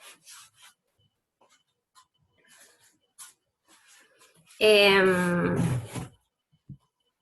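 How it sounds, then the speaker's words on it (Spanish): Chalk scratches and taps on a board in short strokes, broken by one longer, louder scraping stroke with a squeaky tone. "Voy a tratar de escribir un poco más fuerte con la tiza entonces"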